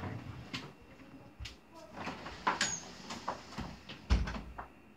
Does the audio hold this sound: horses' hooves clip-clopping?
no